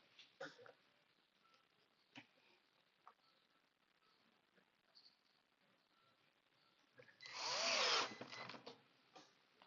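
A power drill drives screws into a fixing block for an adjustable kitchen leg, heard as one loud, close whirring burst of about a second near the end, after quieter handling knocks.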